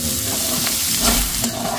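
Chopped onion and garlic sauté in hot, reused frying oil as the base for pakbet, giving off a loud, close, steady sizzle with a scrape of the spatula near the end.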